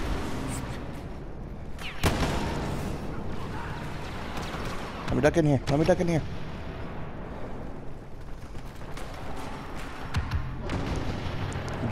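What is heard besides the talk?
explosions in Star Wars Battlefront video game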